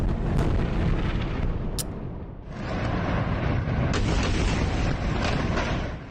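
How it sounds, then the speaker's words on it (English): Deep, rolling explosions in Gaza during overnight airstrikes rumble continuously, loud and distant-sounding, with a sharper blast or two cutting through the heavy roar. "Overnight, Gaza has been rocked by explosions."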